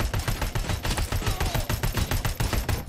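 Rapid automatic gunfire from a weapon in RoboCop: Rogue City, a steady stream of loud, closely spaced shots with punchy low thumps, continuing throughout with no talk.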